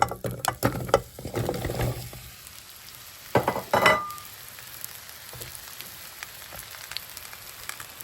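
Chopped bottle gourd drops into hot ghee in a cooker, setting off a burst of sizzling and stirring clatter, a second sharp sizzle a moment later, then a faint steady frying hiss.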